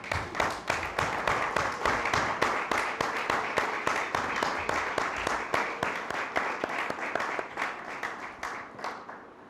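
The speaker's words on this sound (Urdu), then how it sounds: "یسوع مسیح کے لیے زوردار تالی" A church congregation at an Easter Sunday service claps for Jesus Christ in fast, steady, even applause that carries on for several seconds before tapering off.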